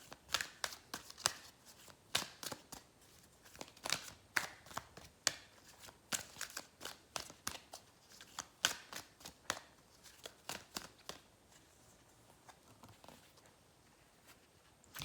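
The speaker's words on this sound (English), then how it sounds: "Let's pull you an oracle card." A deck of oracle cards is shuffled close by in a quiet room, with quick irregular riffling bursts and soft slaps that fade toward the end.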